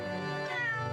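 A single drawn-out cat meow from The Great Ace Attorney video game rises and bends in pitch, clear and close over a faint, steady game background.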